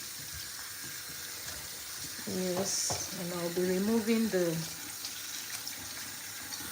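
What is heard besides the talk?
tap water poured for washing sardines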